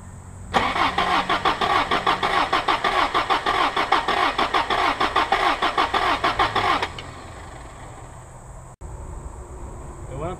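A 1987 Toyota 4Runner with a 22RE engine and a cylinder that fails to fire cranks during a wet compression test. The starter churns in a fast, loud, rhythmic pulse for about six seconds, then cuts off to quiet.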